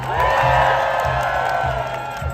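A crowd at an outdoor union rally in Manhattan cheers and whoops steadily, a loud, dense mass of voices with a pulsing low rhythm underneath.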